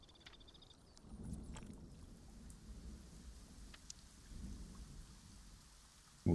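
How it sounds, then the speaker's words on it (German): Rain and rolling thunder from the weather system in the video game Prehistoric Kingdom, a steady hiss of rainfall with two low swelling rumbles of thunder, ending in a sudden loud burst. "Man könnte hier tatsächlich sogar Regen machen."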